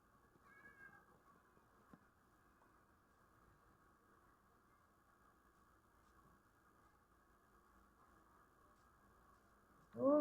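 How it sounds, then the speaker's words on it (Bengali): A cat meows faintly once near the start, then a louder, closer meow comes right at the end, with near silence in between. "গাইস বিড়ালটাকে কত খাওয়াইলাম"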